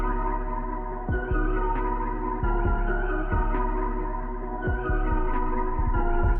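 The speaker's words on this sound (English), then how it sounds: "I threw a couple of effects as well as Beam on there" A dark sample phrase processed with effects and Beam forms a dense, low, droning texture. Soft rhythmic pulses and occasional swells run through it at a constant, close level.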